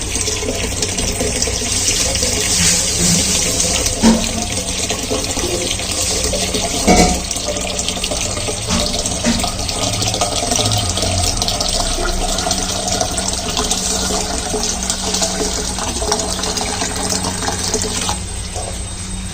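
Water runs steadily from a tap into a clay water pot for a long stretch, a constant splashing rush with a faint clunk midway.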